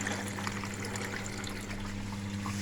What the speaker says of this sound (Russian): Также наливает воду.